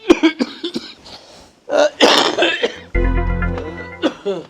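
Several sharp coughs and throat-clearing bursts in quick succession, close and loud, followed by a steady droning tone.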